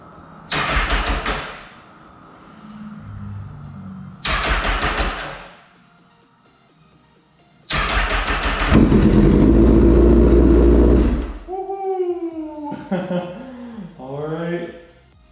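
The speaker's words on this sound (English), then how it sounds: "Now that started up actually really easily." A 2009 Honda CBR 1000RR sport bike, wrecked and under rebuild, cranks twice in short loud bursts before catching and roaring into a sustained rev, then settles to an idle while a person talks nearby.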